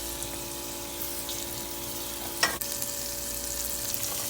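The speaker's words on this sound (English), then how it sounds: "I allowed this to fry until it begins to form a paste." Tomatoes and pepper frying down into a paste for Nigerian egusi soup, a steady soft sizzle in a pot, with one brief scrape or clatter in the middle.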